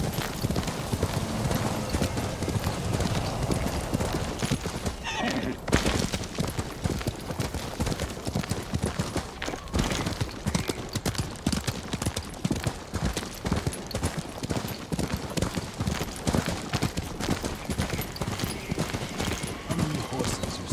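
Horse hooves clip-clopping steadily in the game Ghost of Tsushima, a continuous rapid trotting rhythm close by and fairly loud, with a voice talking over it.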